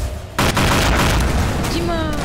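Rockets going off in the sandbox video game Garry's Mod, a sudden loud boom followed by a sustained roaring blast, with game effects and voices mixed in.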